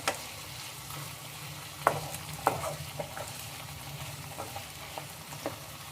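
Raw banana pieces frying gently in oil over a low flame: a steady, soft sizzle with a few sharp clicks of a spoon stirring against the pan, and no voices.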